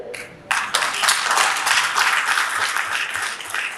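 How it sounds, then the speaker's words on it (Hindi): An audience at the India International Footwear Fair breaks into loud, sustained applause that starts abruptly and keeps a steady, dense clapping roar throughout. "आपकी तालियां बताती है कि मंजूर है"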